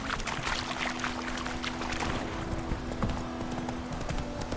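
Horse hooves clip-clop at a steady trotting pace in The Witcher 3 game, close and continuous over a low ambient background.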